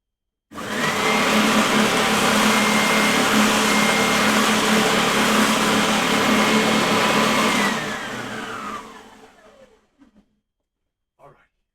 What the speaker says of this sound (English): Let me use the sander.